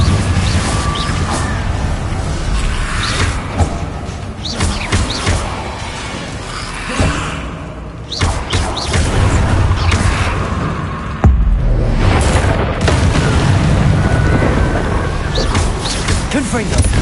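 Spell blasts from Hogwarts Legacy combat, including the Confringo fire spell and Expelliarmus, crack and crash in loud bursts among whooshing effects, with a voice calling out over the action.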